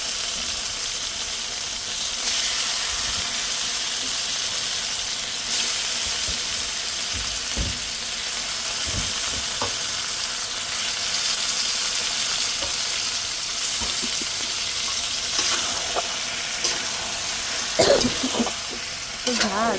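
Meat sizzles steadily while being sautéed and stirred in a pan, a loud continuous frying hiss up close, with occasional soft knocks from the spoon.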